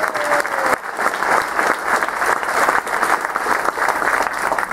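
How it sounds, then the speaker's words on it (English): Loud, dense applause from a large crowd at a political gathering, sustained and steady from start to finish. "You should give yourselves a round of applause."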